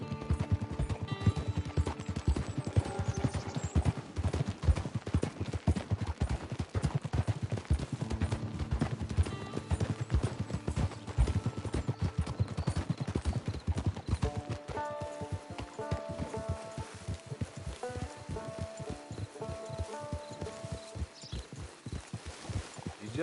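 Steady rhythmic hoof clip-clop from a horse in the video game Red Dead Redemption 2 over a continuous game soundtrack, the beat dense and unbroken throughout.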